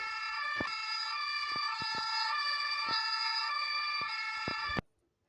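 Brunei's emergency alert alarm sounds as a loud, steady siren-like tone with layered harmonics, punctuated by sharp clicks, then cuts off abruptly near the end.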